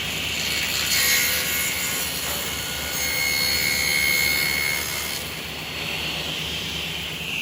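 A table saw cuts steadily through wood for a jewelry box, a continuous loud whine lasting several seconds and easing slightly near the end.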